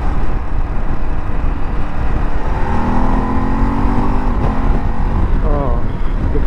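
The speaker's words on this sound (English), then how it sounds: "So the motorcycle picks up pretty well." Ducati Desert X adventure motorcycle accelerating, a loud engine note rising in pitch under heavy wind rush, with a rider's voice faintly present.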